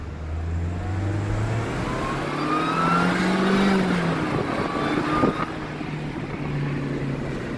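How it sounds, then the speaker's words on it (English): Mercedes C-Class W203 engine with an unsilenced supercharger, revving close by with a rising, whistling whine over a deep engine drone, with no talk. "I'm going to do a video real quick of the unsilenced supercharger"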